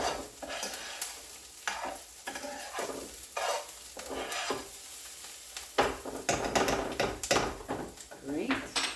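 A spoon stirs Tex Mex dip ingredients browning and sizzling in a hot pan, with scraping strokes and bursts of frying crackle repeating through the stretch, fairly close and moderately loud.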